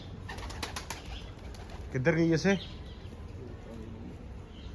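Pigeons being let out for a flight coo faintly in the background while someone speaks briefly and loudly for a moment in the middle, and the birds carry on softly on their own afterwards.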